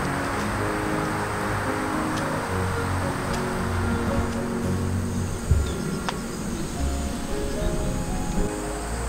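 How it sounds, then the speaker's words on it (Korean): Cicadas drone in a steady, dense chorus beside a clear, shallow river at an autumn car-camping spot, a continuous buzzing texture with faint bird calls and rustling in the background and no speech. "매미가 아직까지 있네."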